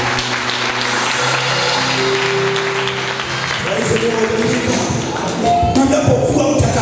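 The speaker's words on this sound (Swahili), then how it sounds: "Tupigie huyu Bwana Yesu makofi." Church congregation at a youth rally applauding together, a dense sustained wash of clapping with crowd murmur and a voice talking over it throughout.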